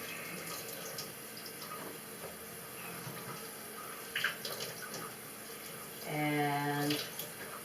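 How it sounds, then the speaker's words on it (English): Water runs from a kitchen tap as a knife and green peppers are rinsed, a steady close hiss with brief splashes, and a short whistle-like tone near the end. "Rinse the knife. Rinse the peppers."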